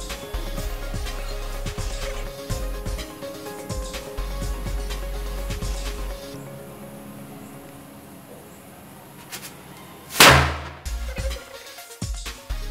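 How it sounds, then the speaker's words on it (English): An ordinary firecracker is lit and goes off with a single sharp, loud bang about ten seconds in, standing out from a steady, murky background. "But before this we will test a normal firecracker."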